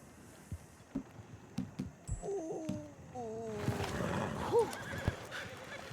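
Horses in a video game neigh in several faint whinnies, accompanied by scattered hoof clip-clops and thuds, with a louder, denser burst of whinnying in the middle.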